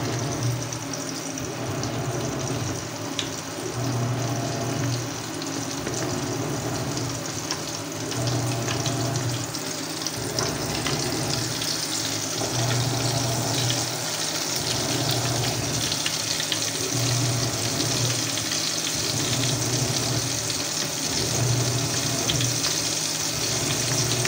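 Fish frying in hot oil, coated in flour, giving a steady, continuous crackling sizzle close by that runs on evenly with a low background hum and no talk.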